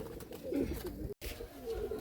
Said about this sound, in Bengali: এই দেখে নিন দাদার পায়রা।